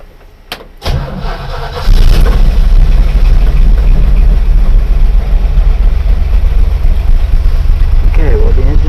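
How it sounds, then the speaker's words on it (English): An old 1951 Willys Wagon four-wheel-drive engine cranks and catches, then settles into a loud, steady rumbling idle close by. "Okay, well, the engine started."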